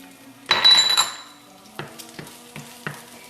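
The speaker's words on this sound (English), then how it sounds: "I just want to saute this to make doradito" Food sautéing to brown in a pan, with a loud burst of sizzle and scraping early on, followed by several distinct clinks of a utensil against the pan, close up.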